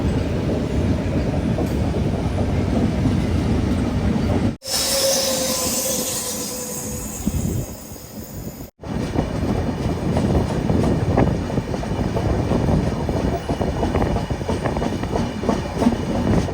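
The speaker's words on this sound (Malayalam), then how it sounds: "അതിലൂടെ ഒരു ട്രെയിൻ പോകുന്നുണ്ട്. ഗുഡ്സ." A goods train passes close by, loud steady rumbling and clattering of wagons with squealing wheels, briefly interrupted midway by a sharper, brighter rush before the heavy rolling noise resumes; no talking.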